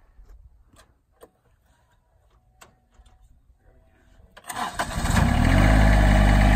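A John Deere 2305 four-wheel-drive compact tractor with loader cranks over and fires up after a few quiet clicks and taps, then settles into a loud, steady diesel idle close by.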